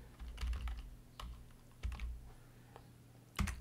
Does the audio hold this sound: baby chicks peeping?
no